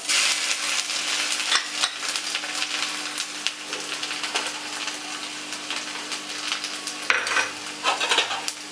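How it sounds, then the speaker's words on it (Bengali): Grated ginger, bay leaves and whole cumin sizzle in oil over a low flame for a sweet-and-sour katla fish curry, a dense steady crackle with clinking spoon strokes against the pan, close and fairly loud, no voices. "আদা, তেজপাতা, গোটা জিরে একটু হালকা হাতে নাড়াচাড়া করে নিলাম।"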